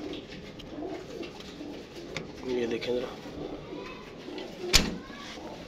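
A large flock of kept pigeons, breeding pairs in their loft, coos in overlapping soft bursts, with a sharp clatter near the end and someone talking over them.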